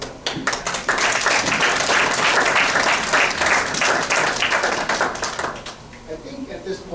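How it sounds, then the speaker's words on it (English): Audience applause at a 40th anniversary event, steady clapping from a crowd filling the room for several seconds before thinning out near the end. "give Jean, Donna, and Diane a hand of applause for coming up"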